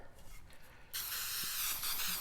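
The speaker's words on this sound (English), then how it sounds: "Give them a happy spray." After a quiet moment a spray can starts, releasing a loud, steady, close hiss aimed at concrete tombstone letters, which keeps going to the end.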